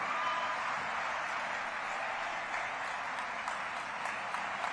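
After a performance in a Shri Ram devotional program, an audience claps in a broad, steady wash of applause that holds at a fairly even, moderate level from start to finish.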